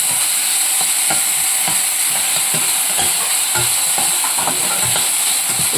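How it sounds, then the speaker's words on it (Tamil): Onion and curry leaves sizzle and fry in a pan while a spoon stirs them in regular scraping strokes, a close, continuous hiss with rhythmic clinks and scrapes over it. "வெங்காயம், கருவேப்பிலை போடுறேன். நல்லா வதக்கிக்கிறோமா"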